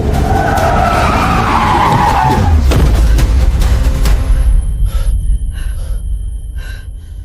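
A car with failed brakes skids hard, its tires screeching loudly for a few seconds before a heavy thud, then quieter rattling debris as the noise dies away.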